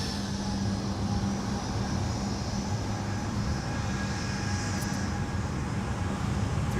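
A Delta flight from Miami arrives at Minneapolis–Saint Paul airport, its engines a steady broadband roar with low rumble held at constant loudness throughout, no voices over it.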